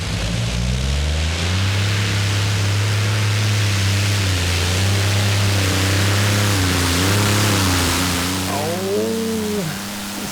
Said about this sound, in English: This time it's Allison engines.